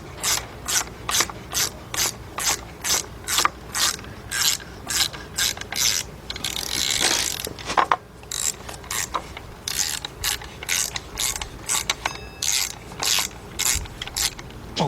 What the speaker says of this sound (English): Tighten the tensioner up.